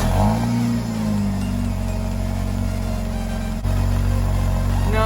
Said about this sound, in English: here's a cold start on a Ford Escape.